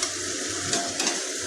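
Slices of bitter gourd frying in oil in a home kitchen pan, a steady, soft hiss of sizzling with faint crackles and a couple of light stirring clicks, close and without talk.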